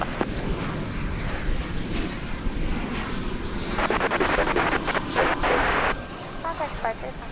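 An aircraft landing at DFW Airport, a broad rushing jet roar that builds and swells toward the middle, heard at a distance beneath an air traffic control radio voice and scattered crackles.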